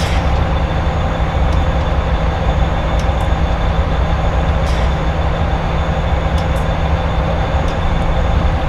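A CSX GE AC6000CW locomotive in Train Simulator 2019 hauls a Pacific Surfliner train near San Diego, giving a loud, steady rumble of engine and rolling wheels with faint high squeals, and no talking.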